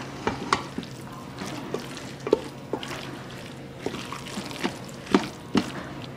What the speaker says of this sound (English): The 1/2 cup of milk. stir it around